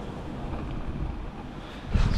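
Wind gusts across a rocky seaside shore during rock fishing, buffeting the microphone with a steady low rumble that swells into a louder gust near the end.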